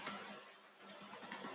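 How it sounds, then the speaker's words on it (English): Quiet clicking of a computer keyboard as someone types a word into a chatbot, a soft irregular run of light key taps, faint and close. "typing TechCrunch to the bot."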